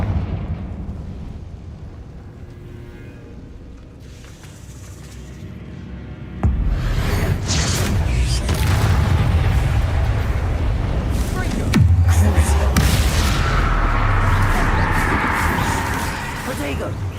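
Fiery Confringo spell blasts in Hogwarts Legacy, a sudden loud onset of booming explosions with crackling debris that continue in a dense, roaring stretch, a second heavy burst landing partway through.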